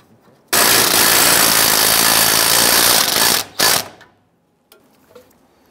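A ratchet tightens a fuel pump module bolt on a 1995-2001 Ford Explorer in a loud, rapid, unbroken run of clicks lasting about three seconds, then one short burst before it falls quiet.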